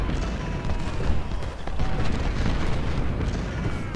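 Whitworth 20-pounder artillery in the Civil War strategy game Ultimate General: Civil War, a dense rumbling barrage of overlapping booms with distant crackling musket fire.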